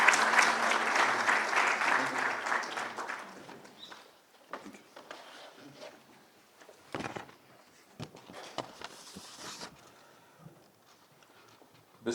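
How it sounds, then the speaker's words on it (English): An audience at a Commonwealth Day event applauds His Excellency with loud, dense clapping. The clapping fades after a few seconds into scattered individual claps and quiet room noise. "in a round of applause for His Excellency"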